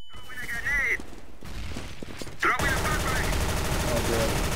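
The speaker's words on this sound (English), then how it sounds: "Throwing a flashbang." Video game shooter match with gunfire and a thrown flashbang grenade: bursts of rapid shots and mechanical clicks, then a loud sustained crackling blast with ringing that fills the last two seconds, under brief voice chatter.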